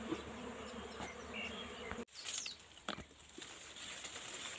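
Wild honeybees buzzing in a swarm around an outdoor nest during a honey hunt, a steady dense drone with a brief dropout midway and a few louder close passes afterward.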